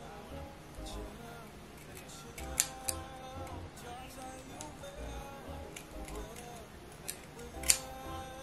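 Scissors snip through synthetic wig hair while trimming during a wig reinstall, a few sharp close clicks scattered under ongoing talk and quiet room noise.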